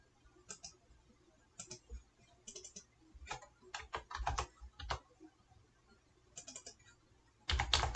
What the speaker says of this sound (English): Then we'll just start typing, right?